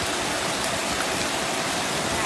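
Heavy rain falls steadily, the first rain of the year, a dense continuous hiss of water pouring down, loud and close with no breaks or voices.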